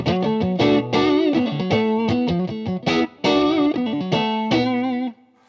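Electric guitar played through a pedal with pre-gain and post-gain engaged in a TheGigRig G2 setup, giving a loud, distorted, effects-laden tone with repeated chords and single notes in rhythmic bursts, then fading out near the end.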